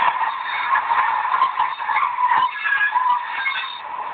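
Brake sound from a Digitrax DCC sound decoder fitted in a Britannia 4-6-2 model locomotive, a continuous squealing, hissing screech of brake shoes with wavering tone, fairly loud and close, no talk.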